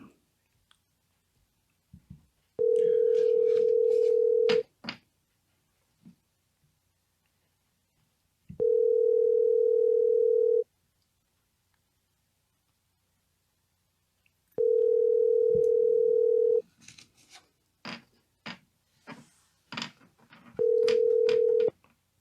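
Outgoing telephone call ringing unanswered on a talk show, four long steady ring tones spaced several seconds apart, with faint clicks and brief bursts of voice in the gaps.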